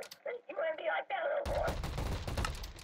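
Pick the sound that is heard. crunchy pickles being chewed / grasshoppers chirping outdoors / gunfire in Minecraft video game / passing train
gunfire in Minecraft video game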